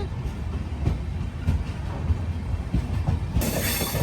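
Aboard the Amrit Bharat Express on its inaugural run, a steady rumble of the train under way carries rhythmic clickety-clack of wheels over rail joints, heard up close with a brighter hiss rising at the end.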